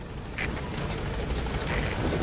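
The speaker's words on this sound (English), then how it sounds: "Anyway, I'm going on the chopper." Military helicopter in the video game Metal Gear Solid V: The Phantom Pain, a steady broadband rotor and engine roar with faint rhythmic blade chop, holding loud and close throughout.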